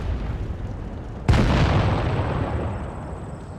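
A tank cannon fires once in World of Tanks Blitz, a sudden, loud, close blast that rumbles off and fades slowly over a steady engine hum, with a faint high ringing tone afterward.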